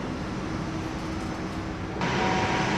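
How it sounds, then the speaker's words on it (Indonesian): Brawijaya train pulling out of Semarang Tawang station, a broad rumbling wash of rolling stock that steps up abruptly in loudness partway through, with a faint steady tone above it. "Kereta Brawijayanya melanjutkan perjalanan, diberangkatkan kembali dari stasiun Semarang Tawang"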